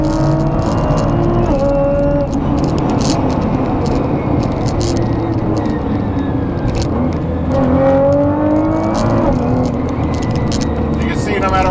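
A Nissan GT-R R35 with an ECUtek-tuned transmission drives under load, its engine note droning steadily and loudly with gliding pitch changes as revs hold high, someone talking over it throughout.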